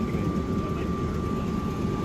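An Atlanta airport plane train pulls away from its platform with a steady low rumbling hum and a constant high electric tone, moderately loud and unbroken, with no clear speech.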